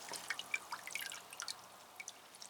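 Water dripping onto an orchid with aerial roots during a light watering and feeding, a quiet scatter of irregular small drips and trickles, close and faint, with no talk.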